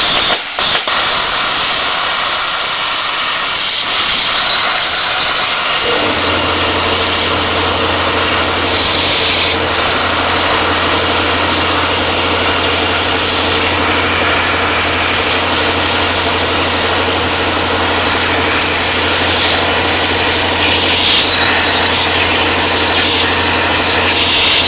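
A 15-amp plasma cutter at 40 psi air works slowly through thick metal, a loud steady hiss and roar over a constant low compressor-like hum that sets in after a few seconds, continuing unbroken to the end.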